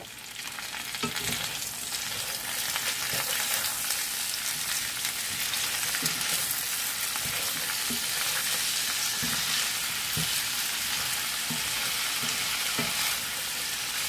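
Seasoned potatoes fry in a pan for smothered potatoes, browning on the bottom with a dense, continuous sizzle and occasional scraping clicks from stirring, close and alone.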